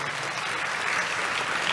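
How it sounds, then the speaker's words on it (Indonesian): A church congregation claps during a Sunday service, a brief, steady burst of applause from a crowd heard at moderate distance, with no voices rising above it. "kasih tepuk tangan buat Tuhan Yesus"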